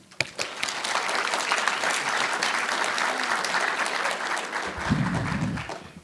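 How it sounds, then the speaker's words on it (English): An audience at a university diversity lecture applauds to welcome a keynote speaker. The clapping is dense and sustained and stays loud and steady throughout, with a low murmur near the end. "Please help me welcome Dr. Thompson."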